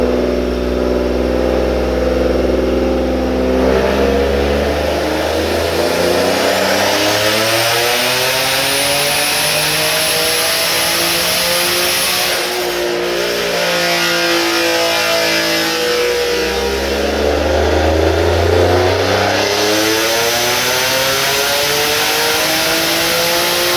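Loud turbocharged 3.7 V6 Mustang with a manual gearbox, pulling hard on a dyno: the engine note climbs steadily, briefly drops around the midpoint, then winds up again in a long sustained roar.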